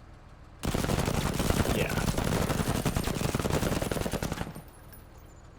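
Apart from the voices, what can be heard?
gunfire at conscripts in the video game Menace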